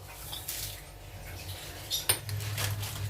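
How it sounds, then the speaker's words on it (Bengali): Nuts being mixed into a vegetable chop mixture in a bowl, with close clinks and scrapes of utensil against the dish over a low background hum. "এবার বাদামগুলো এর মধ্যে মিশিয়ে দেবো"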